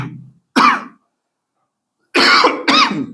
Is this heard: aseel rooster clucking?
no